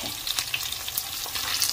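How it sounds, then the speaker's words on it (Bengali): Hilsa fish frying in oil in a pan, a close, loud crackling sizzle with rapid spitting pops that runs steadily throughout the short stretch. "ইলিশ মাছের কাটা রেডি হয়ে গেছে, ভাজি উঠিয়ে নিয়ে মাছ ভেজে নিচ্ছি"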